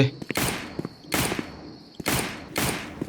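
Bursts of gunfire in a Roblox zombie survival game, four loud volleys of rapid shots spaced about a second apart, with short thumps and gaps between them and no talk.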